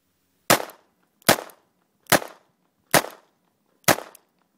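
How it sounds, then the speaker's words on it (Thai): A Smith & Wesson 638 Bodyguard revolver fires five loud, evenly spaced shots at a target in a backyard IDPA-style stage, each crack decaying quickly, with no voices. "ก็ลองยิง 638แบบ ต่อกันดูที่เป้านะครับ"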